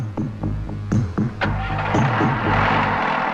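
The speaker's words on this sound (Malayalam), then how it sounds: "ശരി സാർ. വണ്ടി വിട്." A police vehicle in a 1989 Malayalam film scene starts up with a few rhythmic cranking pulses, then its engine settles into a throbbing, close, moderately loud run as it pulls away.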